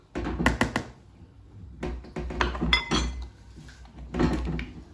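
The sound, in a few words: mixing batter in a bowl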